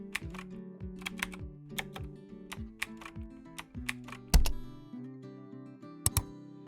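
Typing on a computer keyboard to log in to a school teaching platform: a steady run of crisp, close key clicks with short pauses and a few louder thumps, like a spacebar or enter key.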